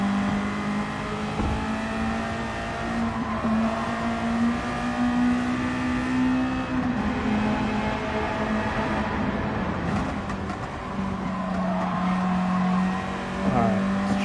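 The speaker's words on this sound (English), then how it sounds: "I mean, I got cars passing me." Race cars roar past in Gran Turismo 7, a steady droning engine note that rises and shifts as other cars close in and overtake, with tire noise along the way.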